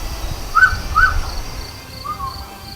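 Short Cebu boobook owl hoots repeat a few times, spaced about half a second apart, over low rumbling outdoor background noise.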